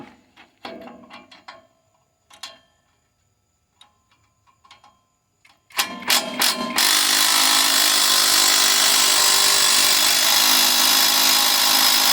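Ratchet tightening bumper bolts on a 1967 Farmall 140 tractor: a few sparse metallic clicks and taps, then a burst of fast ratcheting clicks that gives way to a loud, steady whir for the last half.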